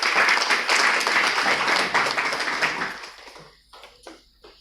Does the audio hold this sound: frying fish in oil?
no